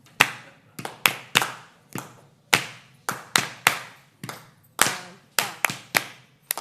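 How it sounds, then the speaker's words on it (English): An audience at a school board meeting claps along with a drum beat. The sharp, close claps come in a steady, somewhat irregular rhythm, about a dozen hits over several seconds. "You can clap with us if you'd like."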